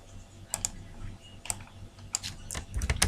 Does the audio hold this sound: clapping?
no